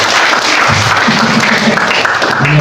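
An audience at a church sermon applauds in a dense, loud burst of clapping that fills the whole moment, with no talk over it.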